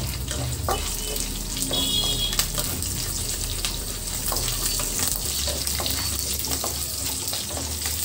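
Mustard seeds and cumin fry in hot oil in a pan for drumstick leaf stir-fry, a steady close crackle and sizzle with scattered pops throughout.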